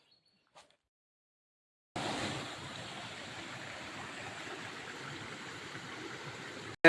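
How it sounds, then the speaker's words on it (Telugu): Muthyaladhara waterfall rushes in a soft, continuous roar that begins abruptly after a couple of seconds of near silence and then holds steady and fairly faint, with no talking. "ఇదిగోండి, ఇదే వాటర్ ఫాల్స్."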